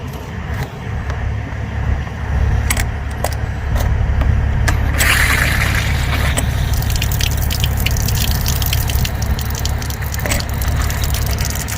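Water from a garden hose sprayed onto a rooftop air-conditioning condenser during an HVAC service call, a loud steady gushing wash with splashy dripping bursts over a low mechanical hum, no talk.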